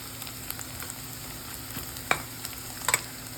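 Onion fries in a pan for a spinach and masoor lentil dish, a steady close sizzle broken by a couple of sharp spatula clinks against the metal.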